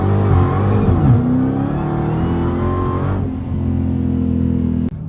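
A Dodge Challenger Hellcat Redeye engine is held on launch control two-step, its loud, close V8 roar settling into a steady buzzing drone at fixed revs. The sound ends with an abrupt drop near the end.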